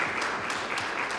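Audience applause at a live construction cash-flow panel event, a steady dense wash of clapping sustained through the whole short stretch at even loudness.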